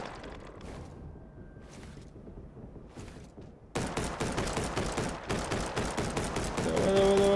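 Gunfire in the mobile dinosaur battle game Full Metal Monsters: rapid, muffled machine-gun bursts, growing louder and denser in the second half over steady game noise, with a short tonal cue near the end.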